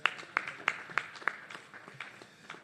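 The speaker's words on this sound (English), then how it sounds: "I think we should clap for them." Applause for the bank's directors at a shareholders' annual general meeting: a room full of people clapping, a few sharp claps standing out at first and then thinning into scattered, softer clapping, fairly distant and with no talking.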